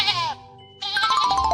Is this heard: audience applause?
no